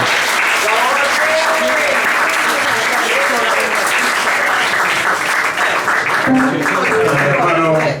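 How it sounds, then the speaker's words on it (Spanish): Loud sustained applause from an audience at a photography art event in A Coruña, a dense roar of clapping throughout with voices and a few shouts mixed in near the end. "Michael Martin Morgan, por favor un aplauso para Martin."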